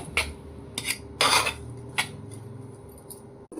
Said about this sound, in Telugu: కనీసం ఒక్కొక్క 10 సార్లన్నా కడుక్కోవాలి ఇసుక పోయేలాగా.